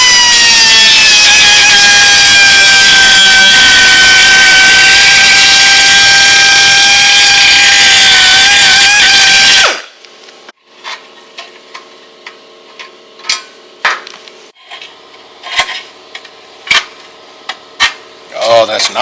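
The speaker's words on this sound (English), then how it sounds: "take a little die grinder and make it bigger." A die grinder whines loud and steady for about ten seconds while enlarging a hole in the garage of an F100 truck, then cuts off, leaving scattered clicks and clanks of tool handling.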